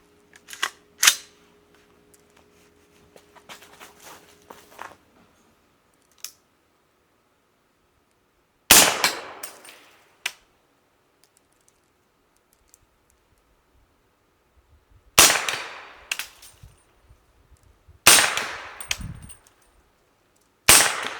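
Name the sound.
AR-15 rifle in 300 Blackout firing shots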